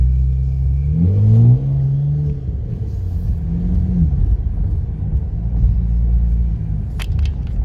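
A Cadillac CTS-V Sport's turbocharged engine revs up as it accelerates, with deep rumbling and rising gear pulls heard from inside the car. It stays loud and continuous, with a brief clatter near the end and no speech.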